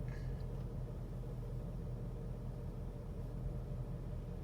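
Manual transmission car pulling away in first gear as the clutch is let up, a steady low engine rumble heard from inside the cabin, constant and fairly quiet throughout.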